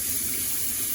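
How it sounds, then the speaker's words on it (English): Cherry tomatoes rinsed under a running kitchen tap, a steady close rush of water splashing into the sink with no talking. "So I'm just going to rinse them good"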